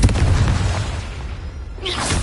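A Confringo spell blast in Hogwarts Legacy lands as a deep, rumbling boom that fades over about two seconds, then a brighter crackling burst flares up near the end.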